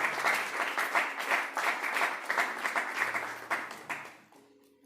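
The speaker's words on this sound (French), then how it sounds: "Est-ce qu'on peut acclamer le Seigneur?" Audience applause follows a call to cheer for the Lord at a French-language talk, steady dense clapping from a crowd that holds for several seconds and then tapers off abruptly near the end.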